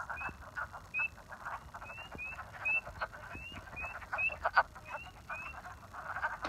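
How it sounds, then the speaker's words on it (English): Spring peepers and wood frogs call in a spring breeding chorus, with high thin peeps repeating every half second or so over a low clucking chatter, faint and distant. "mostly the spring peepers and wood frogs, which can be heard peeping and clucking in this clip"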